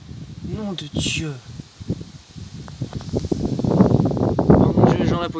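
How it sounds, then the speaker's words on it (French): Strong gusting wind from a thunderstorm in Grenoble roars and rustles, building louder toward the end while a person talks excitedly close by. "Oh non le vent qui arrive encore c'est pas vrai."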